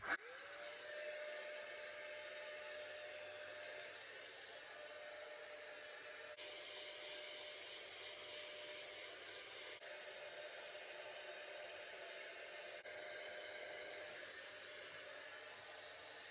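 A Dyson Airwrap-style hot air styler runs on its hottest setting, number 3, giving a steady, fairly quiet blowing hiss with a faint high whine throughout, heard alone.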